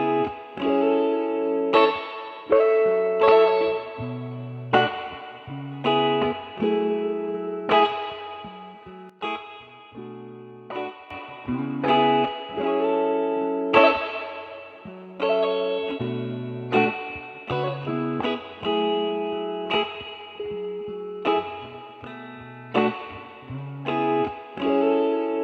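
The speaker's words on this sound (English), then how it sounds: "this loop was like the guitars, and I had to increase the leveler and cut the lows in the FX equalizer and add the reverb." Looped guitar part with low frequencies cut by an equalizer and reverb added, repeating a steady chord pattern with a warm, effected tone that plays continuously and fairly loudly for the whole stretch, with no talking.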